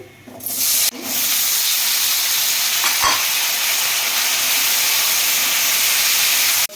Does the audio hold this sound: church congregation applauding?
no